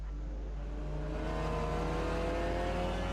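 Cupra touring race car engine on the Croft circuit in a sim racing series, a loud sustained drone climbing steadily in pitch as it accelerates, heard alone.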